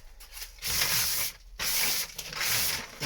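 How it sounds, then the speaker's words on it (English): Sandpaper rubs by hand over wood on a boat in bursts of brisk, close, rasping strokes separated by short pauses. "I'll get rid of these wisps up here, start sanding up there."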